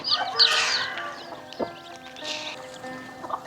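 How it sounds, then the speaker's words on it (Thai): Laying hens on a rural Thai farm cluck in short bursts, with soft bird chatter underneath and a few sharper calls at moderate distance. "อันนี้คือไก่พันไข่เด้อจ้า"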